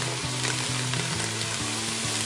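Garlic and onions sizzle steadily in a hot frying pan alongside hamburger meat for chili, a dense continuous crackle with no talking.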